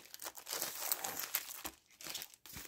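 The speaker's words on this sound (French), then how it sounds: "c'est emballé dans du papier transparent." Transparent plastic wrapping around a small canvas crinkles and crackles continuously while it is unwrapped close by, with brief pauses between bursts.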